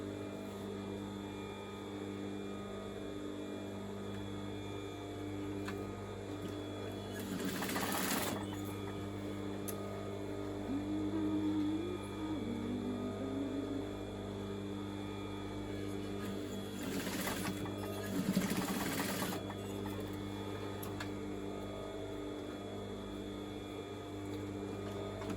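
A domestic sewing machine stitches the side seam of a homemade gift garment, a steady low mechanical whir running throughout with two brief louder bursts of faster stitching.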